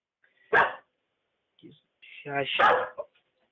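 A pet dog at home lets out two sharp close barks with a pause between them, along with a short whimpering yip.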